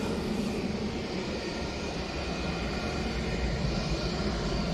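An EasyJet airliner coming in at Manchester Airport, heard as a steady, broad engine roar that holds at an even level throughout, with no talk over it.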